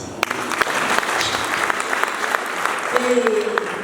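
A church congregation claps together, steady applause with a voice speaking over it throughout, moderately loud and fairly close.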